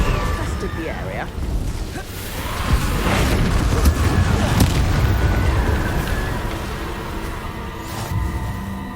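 Confringo explosive spell in Hogwarts Legacy going off amid combat with vile beasts: a sustained loud booming, crackling blast texture rolling on for several seconds, with brief voice sounds mixed in.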